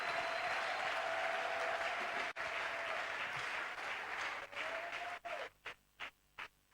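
A church congregation at a Pentecost service applauds together, a sustained wash of clapping that breaks into a few separate rhythmic claps as it fades.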